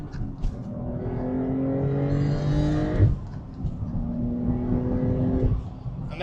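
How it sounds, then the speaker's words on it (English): A Porsche 911 Targa GTS (992.1) with a seven-speed manual pulls hard at full throttle in second gear. The engine note climbs steadily, cuts briefly at about three seconds and rises again. "That's full throttle, second gear."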